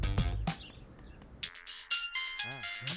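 A mobile phone ringtone plays a bright, chirpy electronic melody of repeated warbling tones, clear and close after a brief rustle and background sound.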